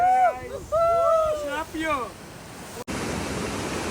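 A person speaks first, then the steady roar of river rapids and a waterfall at a Rishikesh riverside takes over, close, loud and continuous.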